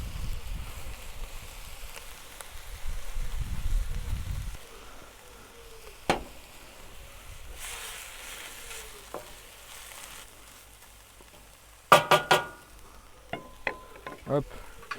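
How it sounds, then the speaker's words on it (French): Minced meat browns in a pan on a Weber barbecue with a soft, steady sizzle, joined by occasional clinks and scraping stirs of a utensil. "on va rajouter la viande hachée. On fait bien dorer la viande."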